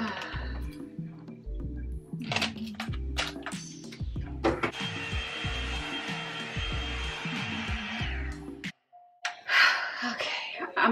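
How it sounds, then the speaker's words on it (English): An aging handheld hair blow dryer runs at home with a steady whirring hum, broken by intermittent clicks and handling bumps; it cuts off briefly near the end, then a short burst of noise follows. "I'm gonna have to let go of this blow dryer and just start over with all my blow dryers."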